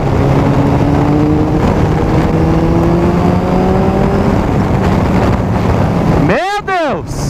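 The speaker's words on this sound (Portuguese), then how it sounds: "Anda demais essa moto" A GSX 1250FA motorcycle engine drones and climbs in pitch through the gears on the highway under heavy wind buffeting, then a loud whine rises and falls sharply near the end.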